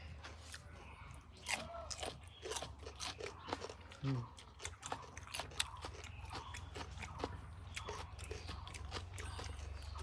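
Someone chews and bites into salty home-cooked food close to the microphone, with repeated crunchy, wet bites in an irregular rhythm, while someone speaks between mouthfuls.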